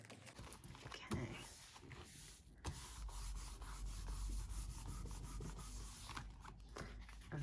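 A page in a Stalogy B6 notebook being smoothed down by hand gives a steady, close papery rubbing and brushing that runs continuously, with a few brief louder scuffs.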